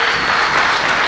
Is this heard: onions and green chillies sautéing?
no